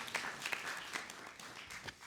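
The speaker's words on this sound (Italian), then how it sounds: "Applauso." A small audience at a school debate event applauds, soft scattered clapping that runs unevenly for a couple of seconds, faint and somewhat distant.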